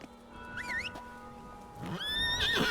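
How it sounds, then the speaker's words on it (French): A horse in The Witcher 3: Blood and Wine whinnies loudly near the end, a rising and falling neigh, with a shorter whinny earlier amid ambient game sounds. "Mon cheval est encore vivant au milieu de tout ce merdier."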